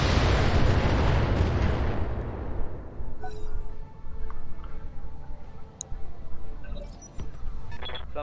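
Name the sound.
mech weapons firing in the video game Battletech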